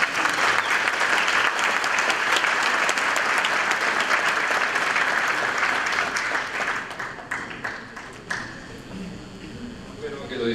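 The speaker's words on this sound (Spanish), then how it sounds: "Un aplauso, por favor." Applause from an audience at a business analytics summit, a dense sustained round of clapping that thins into scattered individual claps and fades toward the end.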